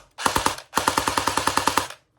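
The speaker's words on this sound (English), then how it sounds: "It's gonna be loud, but here's the full auto." A CYMA CM.052A airsoft AK rifle fires on full auto: a short burst, a brief pause, then a longer rapid string of about a dozen sharp, loud, evenly spaced cracks, close and alone.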